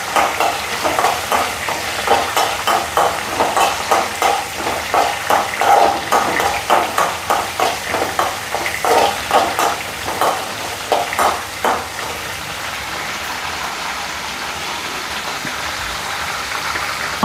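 Dried grapes and other halwa ingredients frying and sizzling in hot ghee, with a steady crackle and rhythmic scraping of a spoon stirring the pan for most of the stretch, fading to a quieter sizzle near the end.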